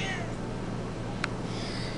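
A five-year-old large house cat meows, a brief, fairly faint call rising out of steady room hum with a short click partway through.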